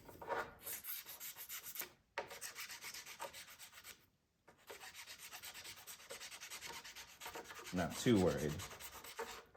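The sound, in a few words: roughening epoxy surface, sanding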